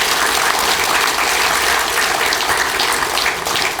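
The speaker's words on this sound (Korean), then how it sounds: "다시 한번 큰 박수로 부탁드립니다" A seated lecture audience claps warmly and loudly in sustained, dense applause at the close of a meditation talk, with no speech over it.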